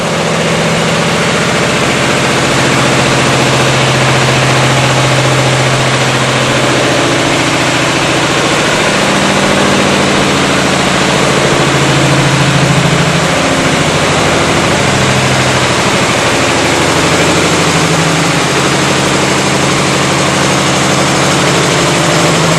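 An air-cooled single-cylinder diesel engine runs under load on a test bench, a loud, close, constant rumbling drone with steady vibration and no pauses.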